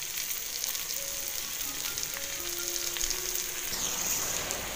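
Okra frying in a little oil over low heat, a steady soft sizzle held close throughout, with faint clinks, and no one speaking.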